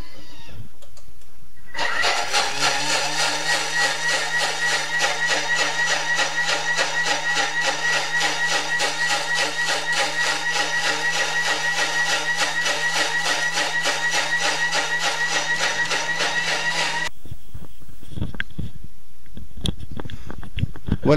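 Thermomix TM6 and KCook Multi Smart kitchen robots blending a watermelon smoothie with ice at top speed, a loud steady motor whine running for about fifteen seconds with a rattling texture before cutting off, then quiet.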